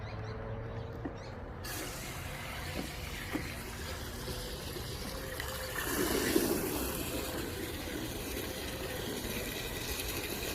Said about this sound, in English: I'm going to fill up this bucket